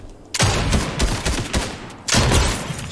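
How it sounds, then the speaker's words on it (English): Heavy gunfire in a shooter video game, two long dense bursts of rapid loud shots separated by a brief lull, close and dominant. "I'm shooting with a heavy."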